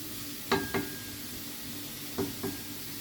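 Onion sautéing in a hot pan, a steady soft sizzle with two pairs of sharp knocks or stirring clacks against the pan, no talking.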